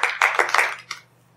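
A short round of hand clapping in a small talk-show setting applauds a newcomer: about five quick, evenly spaced claps that stop abruptly and trail off into quiet.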